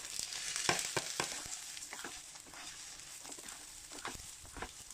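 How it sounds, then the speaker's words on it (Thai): Washed rice being stir-fried in a pan with shiitake mushrooms, carrot and corn for rice-cooker Chinese sausage rice: a steady soft sizzle with repeated scraping, stirring strokes of a utensil, close and moderately loud, no talking. "เอาข้าวนาทีเราซาวข้าวเรียบร้อยแล้วก็ลงมาผัดเลย"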